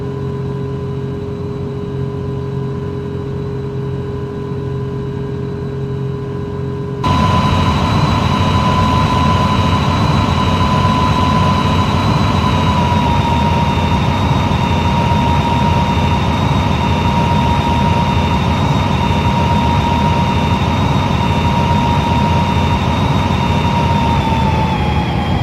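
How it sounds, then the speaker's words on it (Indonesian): Airliner engines during a landing in a flight simulator game, a loud, steady roaring drone with a high whine that grows fuller after a few seconds and stays constant throughout. "Coba mendaratkan pesawat demi menyelamatkan"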